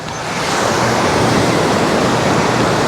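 Floodwater in Florianópolis, Brazil, churns in a loud, steady, unbroken rush like surf, heard close and alone with no talk.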